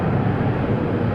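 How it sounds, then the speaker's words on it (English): An old Airbus airliner passes at DFW International Airport, a steady, loud broadband jet roar with wind buffeting, continuous for about a second. "That sounds like an old Airbus."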